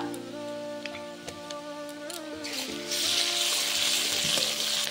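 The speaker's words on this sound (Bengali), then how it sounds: "রসুন আর পেঁয়াজ একসাথে খুব ভালোভাবে ভেজে নেব" Garlic and onion frying together in a pan, with ginger paste added; steady close sizzling that swells louder partway through, with some stirring scrapes and no talk.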